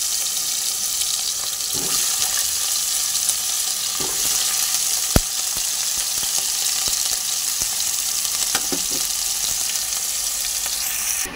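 Pieces of elephant foot yam fry in hot oil in a wok, a loud, dense, unbroken sizzle that hisses steadily close by, with a few faint knocks and no voices.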